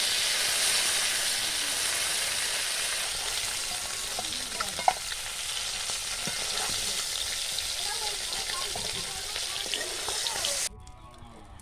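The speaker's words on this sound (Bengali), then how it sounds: "আমি এপিট ওপিট হালকা করে ভেজে মাছগুলো তুলে নেব" Koi fish fry gently in hot oil, turned to cook lightly on both sides, giving a steady, close, dense sizzle with soft crackles that holds evenly before cutting off sharply near the end.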